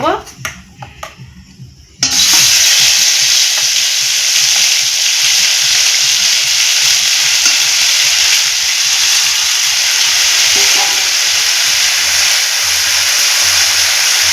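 Spice paste hits hot oil in a wok-like karahi with a sudden loud burst of sizzling that holds steady and close for the rest of the stretch, after a couple of seconds of quieter kitchen sounds.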